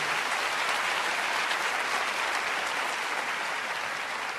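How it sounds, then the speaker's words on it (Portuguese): Warm applause from a church congregation during a Pentecostal service, dense and steady clapping filling the hall for the whole stretch at an even level. "Vamos cumprimentar quem está em casa com uma calorosa salva de palmas maravilhosa."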